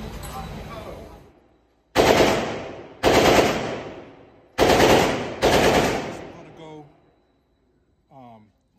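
Rifle shots from an FN 15 Tactical II fired at an outdoor range, four loud sharp reports with decaying echoes spaced about a second apart, preceded by a wash of ambient noise and followed by a brief voice.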